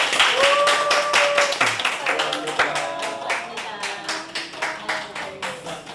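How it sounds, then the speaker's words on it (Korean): A church congregation at a Sunday afternoon service in Daegu claps together, a dense run of close, rapid hand claps lasting throughout, with some voices mixed in. "자, 박수 한번 치도록 합시다."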